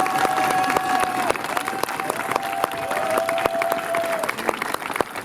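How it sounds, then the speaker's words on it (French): Steady, dense clapping from a large audience at a charity gala fills the whole stretch, with a sustained tone ringing over it for most of the time. "On l'applaudit très fort."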